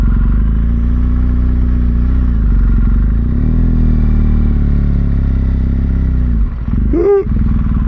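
A motorbike engine drones steadily and loudly while riding a rough road in Elan Valley, its pitch shifting slightly, with a brief clatter and scrape near the end.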